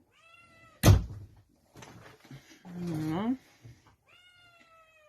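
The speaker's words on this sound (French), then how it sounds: "Ah, et mon petit chat qui veut rentrer." A pet cat meows to be let in indoors, several clear rising and falling meows at the start, middle and end, with a sharp thump and someone speaking briefly between them.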